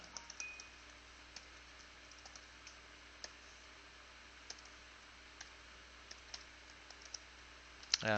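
Keyboard typing while a program is written, heard as faint, scattered key clicks spaced irregularly over a quiet room background, with no talking.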